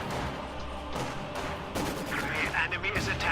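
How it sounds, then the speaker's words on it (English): Sniper rifle shots in the strategy game Company of Heroes 2, sharp cracks at intervals amid battle noise and scattered explosions, with a commentator talking over them. "Sniper also taking shots at the Grenadiers here."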